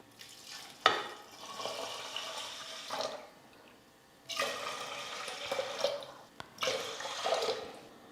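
Water poured into a pressure cooker holding rice and moong dal, heard as three separate splashing, gurgling pours of a few seconds each, close and fairly loud, with short pauses between them.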